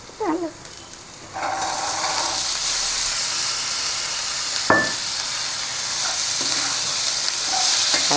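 Green peas tip into a hot pan with chilli, garlic, onion, turmeric and salt, and a loud steady sizzle and hiss follows, broken by a few scraping stirs.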